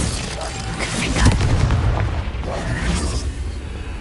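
A Confringo blasting spell explodes in the Hogwarts Legacy video game with a deep, rumbling boom that swells and then fades under a steady wash of game noise, and a voice speaks briefly.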